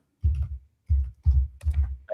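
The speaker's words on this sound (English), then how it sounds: "He's typing something out to me." Keys on a computer keyboard clatter in four short bursts of tapping, close and fairly loud, with brief silent gaps between them.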